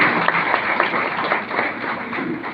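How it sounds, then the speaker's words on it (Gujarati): An audience bursts into steady, dense applause, many hands clapping together at close range with no voices over it. "બધાને માટે એકવાર જોરદાર તાળીનો ગણગાર કરીએ છીએ"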